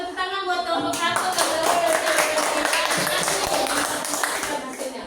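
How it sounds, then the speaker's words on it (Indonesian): A classroom of pupils clapping for group 1, the rapid, uneven hand claps starting after a brief spoken word and continuing loudly for about four seconds. "Kita kasih tepuk tangan buat kelompok 1."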